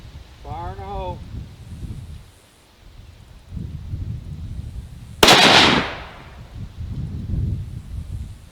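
A single loud gunshot cracks at a shooting training academy, a sharp close blast that decays into rumbling echo, amid low outdoor wind noise.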